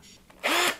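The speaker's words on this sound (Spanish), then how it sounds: "¡Trate el taladro con la broca gorda!" A power drill fitted with a thick drill bit spins up in one short, close whirring burst that ends abruptly after a quiet start.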